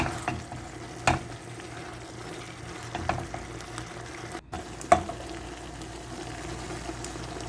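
Chicken with cornstarch slurry and a splash of sesame oil cooking in a pan for Chicken Manchurian, giving a steady close sizzle and bubbling with a few spoon clacks and stirs against the pan.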